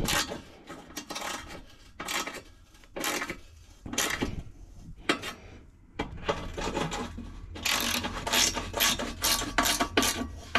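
A ratchet clicks in bursts as it tightens down onto a seal, short rasping runs separated by brief pauses, close and fairly quiet, with no voices.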